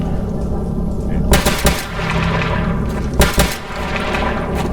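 SK-25 rifle fire in the video game Stalker Anomaly GAMMA, two separate bursts of sharp, loud shots about two seconds apart, set against a dense and constant game background.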